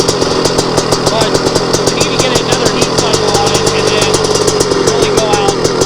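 A 250R dirt bike engine holds steady at high RPM, a loud, continuous, rapid-firing two-stroke buzz heard close up, with no voices over it.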